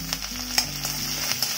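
Ginger, broken cashews and curry leaves fry in hot oil, giving a continuous close crackling hiss with a few sharp pops, no voices.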